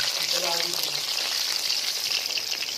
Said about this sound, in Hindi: जब इस तरह का मछली हो जाए तो समझिएगा पूरा फ्राई हो चुका है